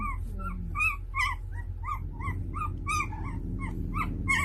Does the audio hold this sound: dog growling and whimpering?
yes